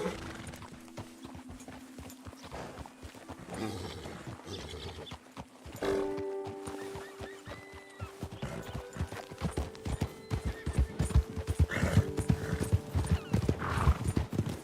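A horse in the Red Dead Redemption 2 epilogue whinnies and snorts, with clip-clopping hooves growing louder and more insistent toward the end, all fairly faint.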